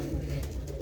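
Pigeons of a prized breed coo softly at close range, a short low throaty burble heard alone.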